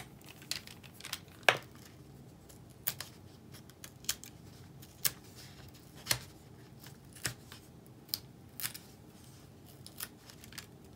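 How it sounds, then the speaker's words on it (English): Scissors trim the loose ends of ribbon on a handmade lace Valentine card, giving a series of short, crisp snips spaced irregularly over a quiet background, close and fairly soft. "Just trim those ends."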